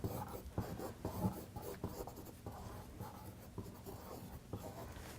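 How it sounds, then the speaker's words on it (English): Pencil drawing lines on paper, a steady close scratching and scraping with repeated stroke rhythms, soft and continuous, with no voices. "Some of these lines will be with pencil."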